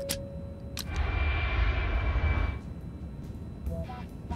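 An airplane engine drones steadily during a landing approach, swelling loud for about two seconds in the middle and then easing to a lower, steady hum, with a few brief clicks and tones around it.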